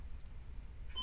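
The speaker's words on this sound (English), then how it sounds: "this stupid dimmed alarm clock." An alarm clock that goes off every evening gives a brief electronic beep near the end, steady tones breaking through a quiet room with low background rumble.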